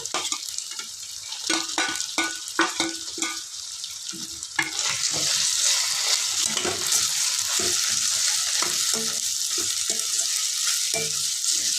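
Prawns fry in a pan with ongoing stirring, scraping strokes and crackles at first, then a louder, steady sizzle swelling up as they hit the oil, close and without talk.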